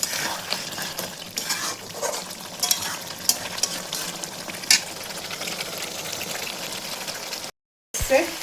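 Mutton curry is stir-fried in oil in a pan, a close crackling sizzle broken by sharp scrapes and clinks of a spatula against the pot, then a brief dropout before the frying resumes.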